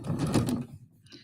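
A domestic sewing machine stitches a folded, pressed fabric seam in a short, close burst of rapid mechanical whirring that stops after about half a second, leaving near quiet.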